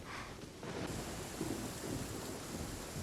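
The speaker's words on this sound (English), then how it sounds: "As it starts to rain." Heavy rain pours steadily with rumbling thunder rolling underneath throughout, a stormy mountain scene in Genshin Impact, loud and continuous with no voices.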